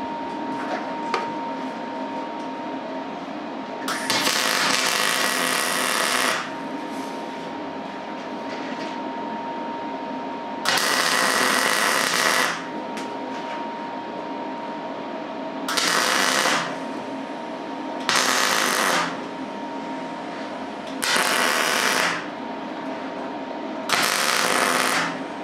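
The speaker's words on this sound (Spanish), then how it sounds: "Vamos a acabar de soldar esto." Metal being welded to build a fishing rod rest: five separate bursts of harsh crackling hiss, each one to three seconds long, with pauses between them over a steady background hum.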